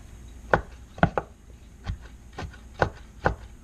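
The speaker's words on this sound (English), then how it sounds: "I gotta double time the knife here with both hands" Kitchen knife chopping bacon into small bits on a cutting board, a series of about seven sharp, close knocks at an uneven pace with faint rustle between them.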